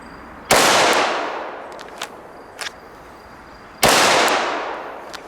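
A Glock 41 longslide .45 ACP pistol fires two sharp, loud shots about three seconds apart. Each crack leaves a brief decaying echo, and faint clicks and handling noises fall in between.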